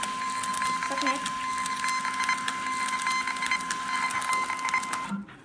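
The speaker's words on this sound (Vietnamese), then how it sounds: "sau đây mình xin in thử cái bản in của cái máy này để các bạn nhìn rõ được cái chất lượng in" A GoDEX EZ2350i barcode printer printing a test label, giving a steady mechanical whir with a fine rapid patter and a constant tone that stops abruptly just before the end; someone talks over it.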